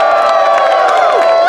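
A theater audience cheers and whoops together in a short, loud burst of mixed voices.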